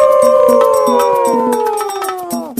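A pack of foxes howls together as a story sound effect, a loud, close chorus of long, wavering cries that slowly slide downward in pitch, layered over a few short yips.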